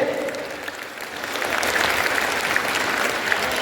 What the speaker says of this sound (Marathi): टाळ्यांचा आवाज जोरदार झाला पाहिजे.